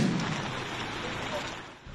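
Heavy rain pours down over Davao City, a dense steady hiss of falling water with a low rumble at the start, fairly faint and unbroken across the short stretch.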